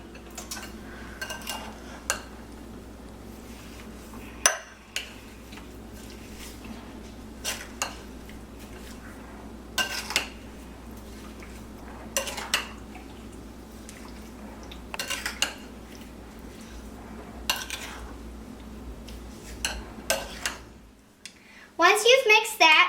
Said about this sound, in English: And now I'm going to mix it up.